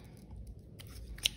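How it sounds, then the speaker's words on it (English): A really good pair of scissors makes a couple of quiet, crisp snips while cutting for a textured design booklet, set against a faint, low background hum. "I do a lot of cutting. I love scissors."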